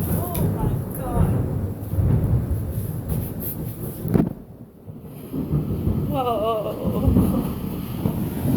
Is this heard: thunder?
yes